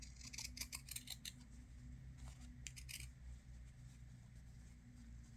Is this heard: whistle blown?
no